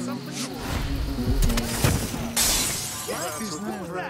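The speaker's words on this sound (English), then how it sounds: "That sounded like broken glass." Glass shatters loudly in the video game Dishonored 2, a bright crash with scattering debris mixed with other game sounds, followed by a voice speaking.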